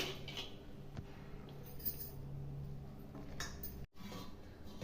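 Cooked gongura leaves scooped into a mixer jar, giving soft clinks and scrapes of a utensil against the jar, faint and close, with a few brief taps and no talking.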